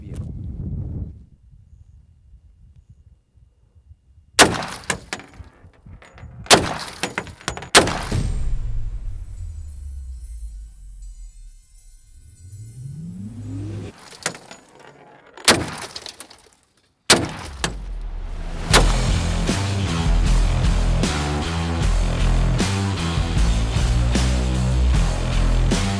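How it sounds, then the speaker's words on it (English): Several .45 FMJ 230-grain rounds fired at near point-blank range into the rear armored glass window of a Cybertruck, giving sharp, loud separate cracks with impact breaks, then a dense sustained stretch of noise near the end. "we're shooting 45 FMJ, 230 grain, right into the back of this window"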